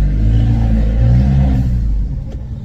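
A car engine fitted with a BMC pop-off filter dump valve revs steadily with a loud low rumble, close by, then eases off near the end with no talk over it.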